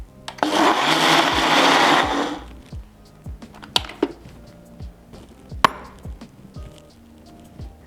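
Chickpeas for chocolate hummus whir loudly in a blender for about two seconds, followed by a series of sharp knocks and taps as the machine stops.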